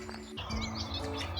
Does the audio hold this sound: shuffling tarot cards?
no